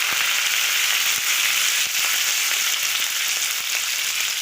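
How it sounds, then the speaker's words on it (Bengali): Bitter gourd fries in hot white oil in a kadai, a loud, continuous, dense sizzle and crackle close up with no talking. "তো তেলটা গরম হয়ে গেছে, আগে আমি উচ্ছেটা ভেজে নেব।"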